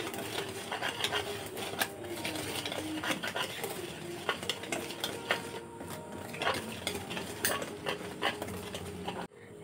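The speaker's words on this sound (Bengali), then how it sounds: "সুজির মধ্যে ঢেলে নেব। খুব ভালো করে মিশিয়ে নেব।" Semolina batter mixed with ripe mango paste and sugar for a mango cake is stirred briskly in a bowl, producing continuous close scraping and clinking spoon strokes with irregular sharp taps.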